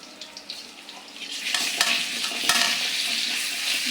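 Ginger goes into browned onions frying in a pan, and a steady sizzle swells as the mix is stirred, with a couple of sharp scrapes from the utensil.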